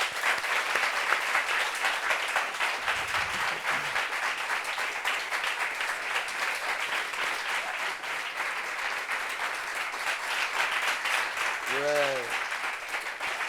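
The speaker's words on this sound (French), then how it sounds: "Applaudissements pour lui." Sustained applause from a studio audience on a television show set, steady and dense throughout, with a brief whistle-like tone near the end.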